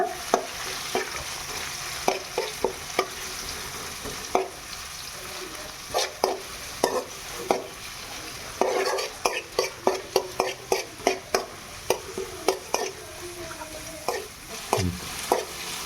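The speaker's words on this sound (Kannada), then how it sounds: "ಈರುಳ್ಳಿನ ಲೋ ಫ್ಲೇಮಲ್ಲೇ ಸ್ವಲ್ಪ ಫ್ರೈ ಮಾಡ್ಕೊಳ್ಳೋಣ" Two chopped onions frying on a low flame, a continuous soft sizzle broken by frequent sharp scrapes and knocks of a spatula stirring in the pan, close and without talk.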